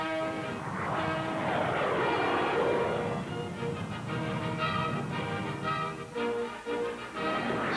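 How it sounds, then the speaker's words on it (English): Swedish J-35 Draken jets passing overhead at an air show, a loud roaring whoosh that swells and sweeps in pitch, then a steadier rumbling drone with no voices. "Swedish jets perform beautifully for the touring Americans."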